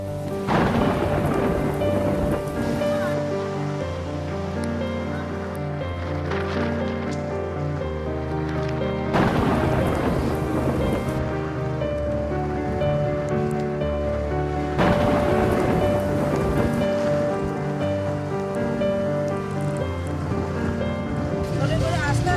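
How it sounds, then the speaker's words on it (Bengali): Heavy rain pours during a thunderstorm, with thunder rumbling and a dense wash of rain throughout, loud and continuous, with voices talking underneath. "এত বৃষ্টি এত ঝড় কি বলবো"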